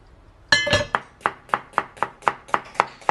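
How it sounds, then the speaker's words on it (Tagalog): A sharp kitchen knife chops on a cutting board while preparing roasted cauliflower soup, giving a fast, even run of about ten crisp, close knocks after a brief scrape, with no voices. "Yun yung tunog ng matalim na kutsilyo."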